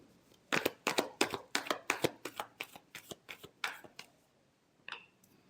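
Tarot cards shuffled by hand in a rapid run of about a dozen crisp riffling snaps, close and fairly quiet, ending with a pause and one last soft slap.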